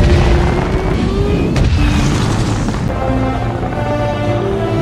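A film explosion as a car slams into an oil tanker truck: a loud, heavy boom followed by a sustained rolling rumble and roar that stays strong throughout.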